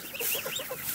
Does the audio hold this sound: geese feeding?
yes